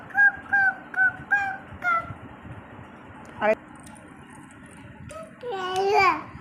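A voice imitates a chicken's call with a series of short, evenly spaced honking cries, followed by a sharp squeal and a longer wavering call, close and clear.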